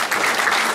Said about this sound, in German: Ein Riesenapplaus für Patricia Scherverdi